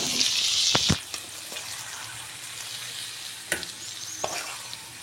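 A cooked homemade dish is tipped and scraped out of a hot pan: a brief sizzling hiss at first, then scattered knocks and scrapes of a utensil against the metal, fairly close, with no talking.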